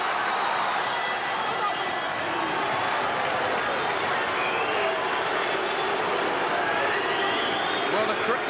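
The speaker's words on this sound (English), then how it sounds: "Now the crowd like this a bit better as the action hots up." Boxing arena crowd at a Naseem Hamed fight, a broad steady roar and murmur of many spectators, continuous and moderately loud throughout, with a brief brighter clatter early on.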